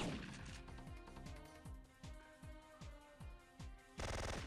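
Rapid gunfire from the PS1 video game Syphon Filter: a steady series of about eight sharp shots at an even rhythm, ending in a louder, denser burst.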